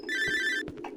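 A telephone in the game Cry of Fear rings once with a bright electronic trill, followed by a couple of short softer tones.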